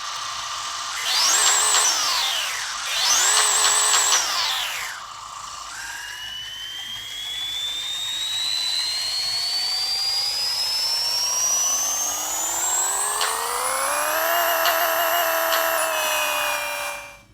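A Jeff Lutz Bel Air in Pixel Car Racer, tuned to about 3,377 horsepower, revs on the dyno: two short revs, then one long, steadily climbing whine that holds at a high pitch before cutting off.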